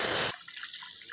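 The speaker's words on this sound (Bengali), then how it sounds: "রেড কাউ দুধ 1 প্যাকেট দিয়ে দিচ্ছি" A packet of Red Cow milk is poured into a kadai on a gas stove, a brief loud gush of liquid that cuts off abruptly, followed by faint drips.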